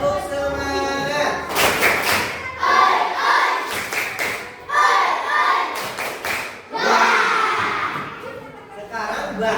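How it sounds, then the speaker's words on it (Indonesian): Children in an Indonesian primary school classroom perform a rhythmic spirit clap, with loud, closely spaced bursts of claps and thumps in repeated patterns, mixed with a teacher's voice talking over and between the beats. "Lagi, ya, tepuk semangat."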